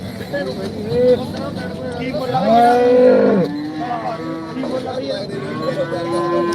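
Cattle low at the Khanna livestock market among cows for sale: a loud, drawn-out nearby moo rises over market chatter and a dealer's voice.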